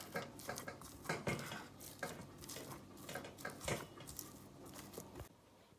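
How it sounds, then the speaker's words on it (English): Cooked potato being mashed in a bowl, with repeated scraping and clinking of a utensil against the dish in an uneven rhythm, close and fairly quiet, with no talking. "I'm going to go ahead now and mash my potato."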